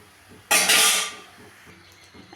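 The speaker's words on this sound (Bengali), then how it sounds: "একটা ঢাকা দিয়ে দিলাম।" A lid set onto a cooking pan of spinach gives a single bright metallic clatter, brief and close, fading into quiet kitchen background.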